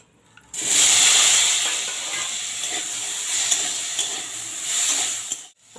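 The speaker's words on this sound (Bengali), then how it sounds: "এবার আলুটাকে ভেজে নেব।" Potatoes drop into hot oil in a pan and fry with a sudden burst of steady hissing sizzle that holds for several seconds, close and fairly loud, then cuts off.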